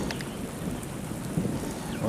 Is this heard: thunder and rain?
yes